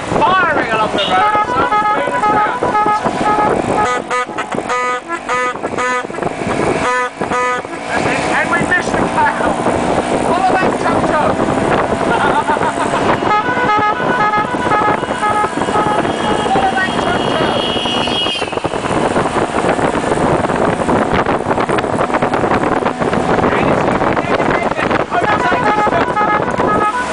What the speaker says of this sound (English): the tuk-tuks have taken off. And they're firing along the road.